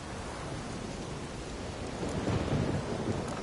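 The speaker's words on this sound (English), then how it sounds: "Relax. Storm's died down." Thunderstorm in The Witcher 3 video game: steady heavy rain hiss with low rolling thunder swelling toward the end, continuous and fairly loud with no speech.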